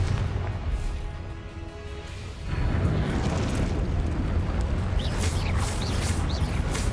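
A Confringo fire spell in Hogwarts Legacy erupts into a heavy, sustained rumbling blast that fills the scene and keeps roaring, with small crackling bursts toward the end.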